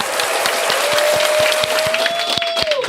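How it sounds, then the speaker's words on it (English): An audience in a podcast studio breaks into steady applause for a guest, with dense clapping throughout and some faint talk mixed in. "Let's give a round of applause for my..."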